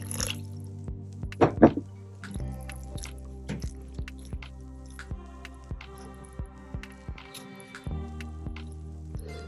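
Henna powder being mixed with warm distilled water into a thick paste gives soft wet squishes and drips, scattered irregularly over a steady low hum, close and fairly quiet.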